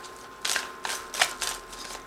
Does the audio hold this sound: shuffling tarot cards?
yes